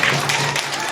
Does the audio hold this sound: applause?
yes